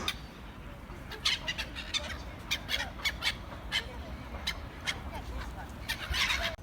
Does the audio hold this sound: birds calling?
yes